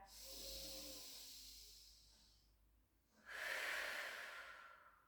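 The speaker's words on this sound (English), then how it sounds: "Take a beautiful breath in." Deep belly breathing during a Pilates stretch for post-surgery rehabilitation: a long, airy inhale that fades out, a brief pause, then a louder, rushing exhale, close and clear with no talking.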